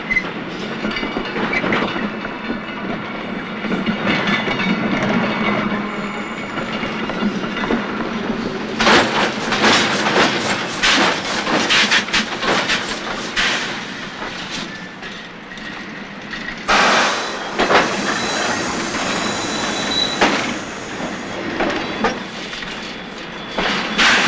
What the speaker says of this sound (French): Le moment vient où sont accrochés ensemble les wagons de la même destination pour la dernière étape